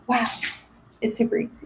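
A single loud sneeze bursts out close by right at the start, followed by a person speaking briefly afterward.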